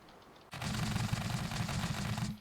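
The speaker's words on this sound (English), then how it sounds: "Pressing 7 toggles to a secondary mode where we can now use a more machine gun-like spud gun" Rapid automatic spud gun fire in Scrap Mechanic, from a helicopter build, bursting in suddenly after a quiet moment and then rattling on as a dense, continuous stream of shots.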